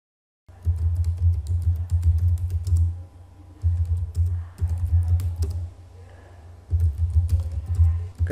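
Commands are typed into a terminal on a computer keyboard: close, loud bursts of rapid key clicks broken by short pauses.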